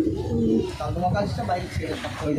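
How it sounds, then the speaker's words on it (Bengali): Pigeons cooing at close range in a rhythmic, repeated low call over a couple of seconds, with someone talking at the same time. "এই দেখো পায়রা দেখো"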